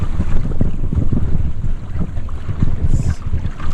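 Strong headwind blasts across the microphone while a canoe sails on open water, loud buffeting gusts with water sloshing and splashing beneath them.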